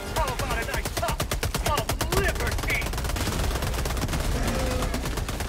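Rapid automatic gunfire from Helldivers 2 rattles in dense bursts against an enemy, firing hard for the first two seconds and then continuing more steadily, with scattered voices and game sounds mixed in.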